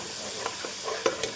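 Spices and tomato sauce frying in a pan for chicken liver noodles, a faint steady sizzle broken by a few quick stirring scrapes near the end.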